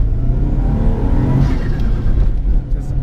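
A 1995 Subaru Impreza WRX STI with a shortened gearbox accelerates hard, its engine note rising in a steady, close rumble over road noise, with no talk.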